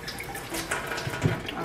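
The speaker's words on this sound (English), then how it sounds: "Washing my hand real quick here." Running tap water splashes steadily over hands at a kitchen sink while cooking chicken, a close, continuous wash with a few brief louder splashes.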